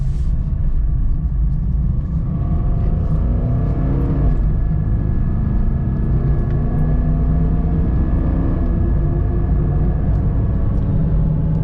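A Jeep Liberty CRD diesel with a newly replaced turbo intercooler drives steadily, its low engine drone and road rumble holding constant with a slight rising whine as it accelerates, heard from inside the cabin.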